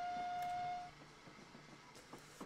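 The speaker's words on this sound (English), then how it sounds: "Let's blow the whistle again." A steam locomotive whistle in a Train Simulator 2019 game blows as a single clear, steady tone for under a second, then cuts off, leaving low rail rumble behind it.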